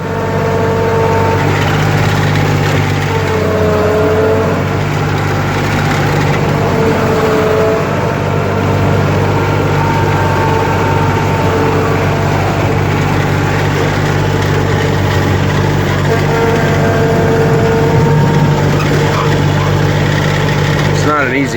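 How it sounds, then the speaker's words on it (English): Steady, loud mechanical drone and whine of a New Holland 1025 compact tractor's transmission and hydrostatic pump as it plows slushy snow from inside a cab, continuous throughout with a voice talking over it. "You can see how you can hear the transmission quite a bit, or the hydro pump that makes this thing move."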